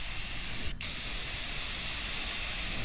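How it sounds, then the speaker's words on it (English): Metallic spray paint hisses steadily from a wide-fan gun onto a car panel, laid on wet in one even coat. The spray holds as a constant close hiss with one very brief break near the start. "You don't want to spray it dry, you just want it about like that right there, to where it's wet as it's going over it."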